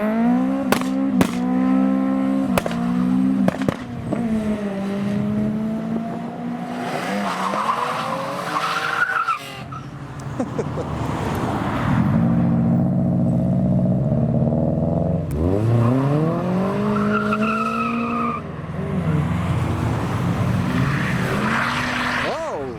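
Modified cars leaving a car show rev hard and skid past one after another, engines rising and falling in pitch with loud sweeping passes, tire noise and sharp bangs, while people talk nearby in the crowd.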